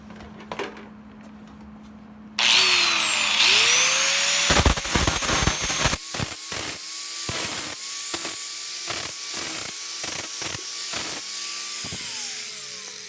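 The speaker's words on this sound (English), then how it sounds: "So let me start grinding down some welds." A grinder fitted with a flap disc grinds welds down on a repaired VW Beetle rear quarter panel. It runs loud and close, its pitch shifts as it bears on the metal, and it is broken by short bursts of grinding.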